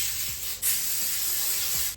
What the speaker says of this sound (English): So I'm using this little Oribe wax spray.